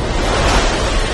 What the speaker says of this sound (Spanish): Las olas vagabundas son olas monstruosas que se elevan mucho más alto que las olas que las rodean